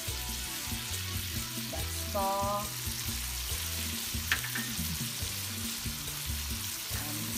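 Crawfish stir-fry with butter, paprika, lemongrass and kaffir lime leaf crackles in a pan, a continuous close sizzle with rhythmic scraping knocks as it is tossed, and a brief voice in the middle.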